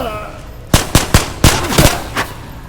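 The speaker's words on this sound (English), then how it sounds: "Hear that gunfire, bro." Gunfire in a dark first-person multiplayer video game: a series of sharp, loud shots in irregular bursts, about six reports over two seconds, ringing out over a quiet background.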